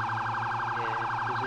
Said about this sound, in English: Can someone put a battery in that fire alarm?